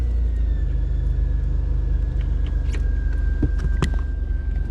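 A 2006 Jeep Wrangler with poor fuel mileage on a test drive, its engine and road rumble droning steadily and close, with a few brief clicks and knocks over the constant low hum.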